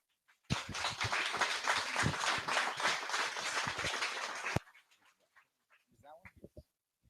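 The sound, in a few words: audience applause for speaker Brian Grana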